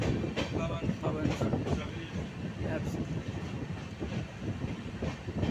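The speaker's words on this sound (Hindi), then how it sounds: "ये रही पवन एक्सप्रेस।" The Pawan Express rumbles past in a dense, continuous roar with rhythmic wheel clatter, close and steady, with a voice talking faintly beneath.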